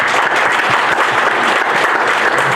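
Dense, steady applause from a large audience at an association election meeting, loud and continuous with no pauses, filling the room.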